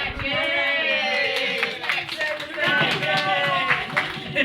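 Small group of people claps briefly during a podcast recording, scattered hand claps at close range mixed with voices talking and laughing over them.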